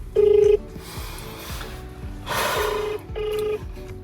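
A phone call is placed: a few short keypad tones come first, then a ringback tone repeats in evenly spaced bursts, clear and close, with a faint voice in between.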